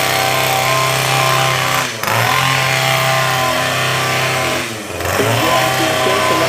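A heavy petrol chainsaw runs loud and close while trimming a garden, its engine steady at high revs with two brief dips in pitch as the throttle eases and picks up again.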